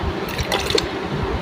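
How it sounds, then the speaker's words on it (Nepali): A small amount of water being poured into a glass that holds a potato in a kitchen, heard as a short close splash and trickle with a brief bright burst partway through, without any talking. "अलिकति यो गिलासमा थोरै पानी हाल्ने"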